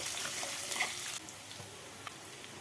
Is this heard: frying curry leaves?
yes